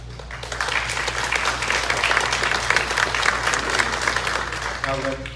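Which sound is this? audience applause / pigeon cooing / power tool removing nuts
audience applause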